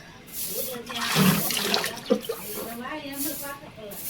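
Whole drums of water poured out to soak wheat, a loud rushing splash with a gurgling surge in the middle, heard under people talking nearby.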